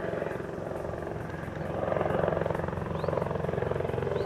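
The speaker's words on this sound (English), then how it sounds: "The noise you hear is from the local airfield." Helicopter flying over near a local airfield at a woodland fishing lake, a steady rotor drone that swells slightly louder midway and stays continuous throughout.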